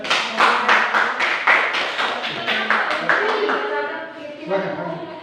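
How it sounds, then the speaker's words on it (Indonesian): A classroom of students claps for a presenting group, a dense burst of applause with rhythmic clapping that gradually thins out, while voices murmur underneath near the end. "Untuk menyemangati teman kalian, mari kita sama-sama berikan aplaus ya."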